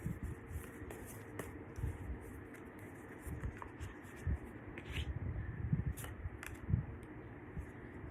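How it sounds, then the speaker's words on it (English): A deck of tarot cards being shuffled by hand, a soft continuous papery rustle with quick riffling bursts and light taps, steady and close, with no talking. "I will be shuffling the cards."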